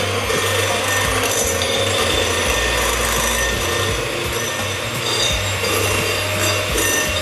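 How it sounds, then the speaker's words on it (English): A stand mixer whisking egg whites for coconut macaroons on its lowest setting, with a loud, steady motor hum and rubbing whir running close and unbroken throughout. "we start to whisk on the lowest setting what you have in your mixer"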